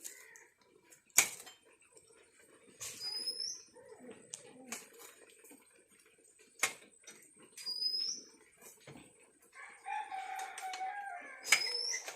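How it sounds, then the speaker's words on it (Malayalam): Chickens clucking and a rooster-like call at a distance outdoors, with other birds chirping sporadically over a quiet background. "കോഴി കോഴിയുണ്ട് കോഴീനെ പിടിക്കാമല്ലോ കോഴികളെല്ലാം താഴെയാണ്"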